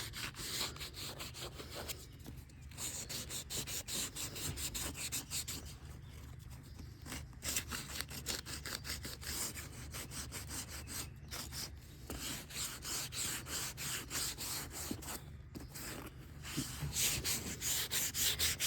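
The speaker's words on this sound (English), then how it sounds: "I'm going to go ahead and finish sanding this" Steady hand sanding of perforated leather, a continuous rough rubbing scrape with brief pauses, close and fairly quiet, no talking.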